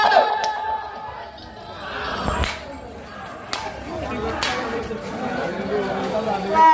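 A crowd at a bullock cart-pulling contest shouts and chatters, with sharp whistles and cries rising over the noise while an announcer talks loudly over it throughout.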